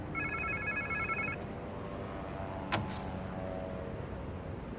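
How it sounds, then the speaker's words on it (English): A phone rings in a video game with a bright electronic trill for about a second, then quiet ambience follows with a single sharp knock midway. "Sounds like somebody's phone."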